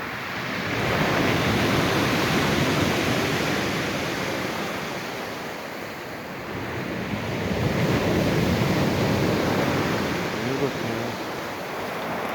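Rough sea surf crashes on the shore and roars continuously, swelling and receding in loud waves, with strong wind noise buffeting the microphone.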